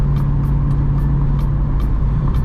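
A straight-piped Mercedes CL63 AMG produces a loud, steady, grungy exhaust drone with a heavy low rumble, recorded close with rhythmic faint ticks riding over the continuous note.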